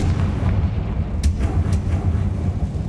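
Confringo fire spell blasts in Hogwarts Legacy: heavy, low booming impacts rumble in quick succession, with a couple of sharp bright bursts near the middle, loud and close.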